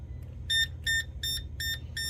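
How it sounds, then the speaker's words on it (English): A Southwire continuity tester gives five short, evenly spaced electronic beeps, loud and close, on a quiet background with a low hum as its leads are connected to an air conditioner's wiring. "You see how that's beeping?"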